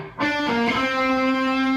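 A distorted electric guitar plays a short phrase from a song, starting with a sharp picked attack, then bending and sliding between notes before settling into a sustained ringing tone, loud and close with no voices.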